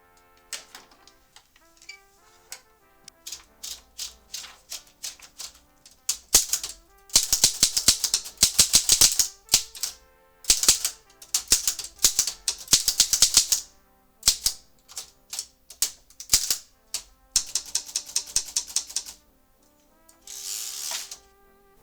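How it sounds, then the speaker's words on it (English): A Remington Remette portable typewriter typing, its crisp metallic key strikes coming in quick irregular bursts with pauses between, plus a brief ringing carriage sound near the end; close and clear with no voices. "My favorite part, though, of this Remette is the sound when it is typing."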